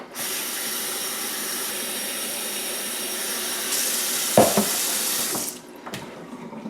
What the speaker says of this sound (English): To that, I'll just add some water.